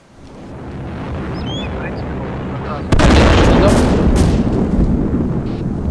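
A sharp explosion in the military video game ArmA 2 with the ACE mod bursts in midway over a steady game ambience, followed by a loud rumbling tail and a few further cracks.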